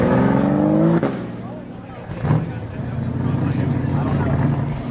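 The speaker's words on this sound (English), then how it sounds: "We got GT3 leaving now." A Porsche 911 GT3 Cup race car engine roars and shifts as the car pulls away from a Cars and Coffee meet, followed by a steady engine drone in the distance, with a brief bang.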